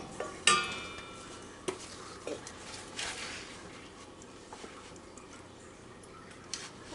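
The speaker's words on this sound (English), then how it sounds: "This is stirring constantly until clear." A spoon stirs strawberry sauce thickened with cornstarch in a pot, producing faint scrapes and a few sharp clicks against the pan over a quiet background, with no talking.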